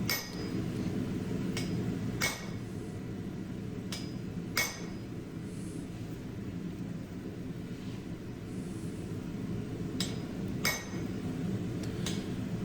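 Hot steel being hammered to slit-drift the eye of an axe, a handful of sharp metallic clinks spaced irregularly over a steady low workshop rumble, with no talk.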